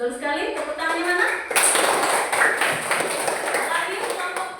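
Students in a classroom clap for a correct answer: a speaking voice gives way to a group clapping in a steady, rhythmic pattern that continues to the end.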